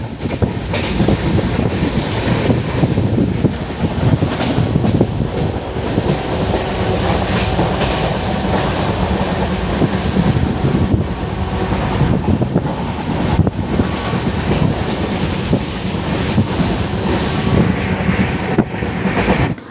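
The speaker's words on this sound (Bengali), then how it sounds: "খুব জোরে ট্রেন কিন্তু এখন দৌড়চ্ছে" An express train runs fast between Howrah and Nabadwip Dham, heard from inside a carriage as a loud, continuous rumble with rhythmic clickety-clack and wind noise throughout.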